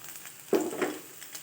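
Grated coconut fries in a pan until golden brown for thavala adai, a soft close sizzle with one brief stirring scrape, otherwise a low steady hiss.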